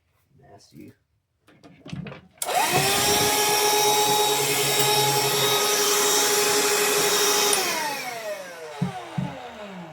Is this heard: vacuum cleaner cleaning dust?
yes